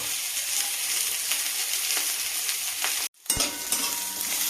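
Spices frying lightly in oil in a pan, a loud continuous sizzle with stirring scrapes that stops for a moment and then resumes.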